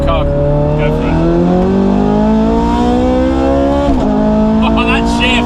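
A Ferrari 430 Scuderia accelerates hard away from a standing start, its loud engine note climbing steadily, then a sharp gear shift near the four-second mark before the revs rise again.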